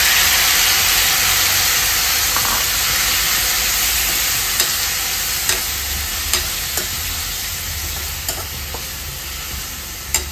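Pineapple pieces coated with salt and jaggery hitting a hot pan for a Goan sweet and tangy curry, producing a loud, steady hissing sizzle throughout with a few sharp utensil clicks and taps near the end.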